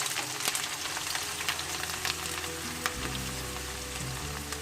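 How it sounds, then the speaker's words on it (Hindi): Chopped onions frying with cumin in a hot pan, a steady close sizzle running throughout without talk, with occasional light clicks. "प्याज को हम तकरीबन 2 से 3 मिनट के लिए फ्राई करेंगे"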